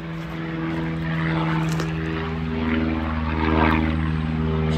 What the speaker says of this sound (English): So excuse a noisy plane going overhead.